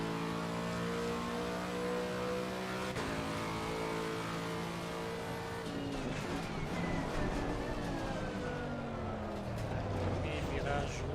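Race car engine in Assetto Corsa Competizione at Brands Hatch, a steady high-pitched drone with gear changes and revs climbing and dropping, under someone talking over the engine.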